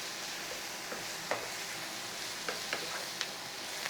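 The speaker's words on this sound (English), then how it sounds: "A nice little stir around." Smoky chorizo sausage and beans sizzle steadily in a hot skillet, with a few soft scrapes and taps from a stirring spoon rising out of the constant frying hiss.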